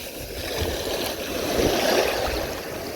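Waves wash and churn along a shoreline in a steady, close hiss of surf that swells slightly midway, with no talking over it.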